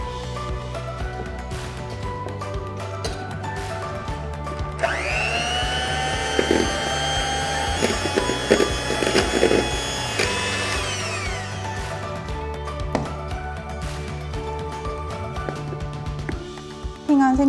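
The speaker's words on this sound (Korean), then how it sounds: "생크림 200g에 설탕 20g 같이 휘핑해서 써볼게요" An electric mixer whips fresh cream with sugar for cake icing, a steady high whirring motor that swells louder for several seconds in the middle, amid kitchen background noise.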